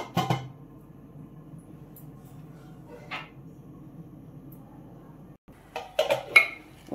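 A spoon clinks inside a pot of Andhra-style uppudu pindi, then after a quiet simmering stretch a lid is set down with a few close metallic clanks and rattles.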